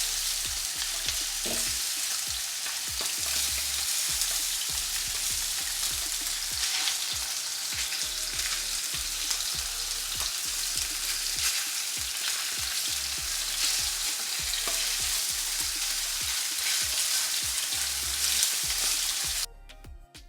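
Sausages, some with skin removed, fry in a pan with a dense, continuous close sizzle and spattering crackle that holds steady for about twenty seconds before cutting off.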